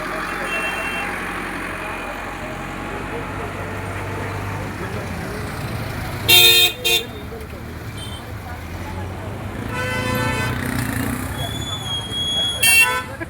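Vehicles pass along a crowded weekly market-day road during Diwali with a constant traffic rumble. Several loud horn toots cut through near the middle and end.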